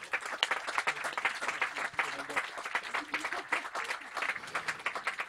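An indoor audience applauds the prize winners at the Genopole 2015 competition awards, a moderate, fairly quiet patter of clapping hands continuing steadily, with some voices mixed in underneath.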